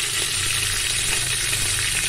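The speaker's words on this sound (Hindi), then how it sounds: "तेल गरम हो चुका है, अब इसमें हमने जीरा डाला, थोड़ा सा हींग डाला" Cumin seeds and a pinch of asafoetida sizzle steadily in hot oil, a dense, continuous crackle with no pauses, close and fairly loud, the tempering for a pahadi gahat dal.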